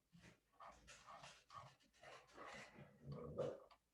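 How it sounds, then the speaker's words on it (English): A dog barks faintly in the background in several muffled bursts, distant and very quiet. "that's my dog barking at somebody or other"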